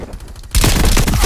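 Rapid automatic gunfire in the Call of Duty Cold War video game bursts in loud and sustained after a brief quieter lead-in, a dense close fusillade with no voice over it.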